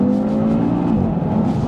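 Audi TT RS engine revving under acceleration, a loud, steady, throaty drone with rising and falling pitch heard close up from inside the car.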